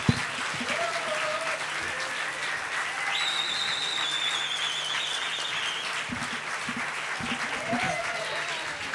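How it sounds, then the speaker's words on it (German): A student bar audience at a live stage event claps loudly and steadily for nine seconds, with several sharp rising whistles cutting through the dense applause and a few cheering voices mixed in. "ganz toll in die Hände zu klatschen"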